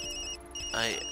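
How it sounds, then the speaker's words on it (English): A mobile phone rings in the game Tokyo Dark, a short electronic ringtone of steady tones rising into a brighter chirp, heard alone and close. "Sorry, Yumi, that's my phone."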